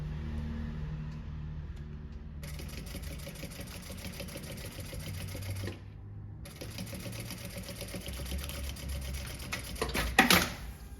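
A sewing machine stitches a synthetic tote bag panel, running in long steady mechanical whirring bursts with a brief pause midway and a sharper clatter near the end.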